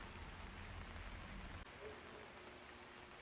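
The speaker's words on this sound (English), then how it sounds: "I hate it when it rains like this." Steady rain patters in the Chongqing level of Hitman 3. The wash is faint and continuous, with a soft thump partway through.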